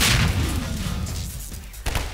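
Gunfire in the video game Half-Life 2, with a loud burst at the start and scattered sharp shots over a rumbling background, and no voices.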